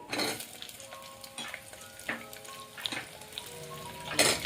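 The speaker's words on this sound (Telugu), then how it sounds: "ఆయిల్ హీట్ ఎక్కాక మసాలా వేసుకున్నాక ఆనియన్," Onion sizzling in hot oil with masala, a busy crackling fry with a few sharp stirring scrapes and clinks of a pan, close and steady with no talk.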